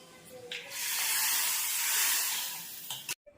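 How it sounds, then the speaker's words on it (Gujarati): A pressure cooker cooking vegetables lets out a loud, sustained hiss of steam that builds for about two seconds, then tapers and cuts off abruptly. "કુકરમાં શાક બની રહ્યું છે"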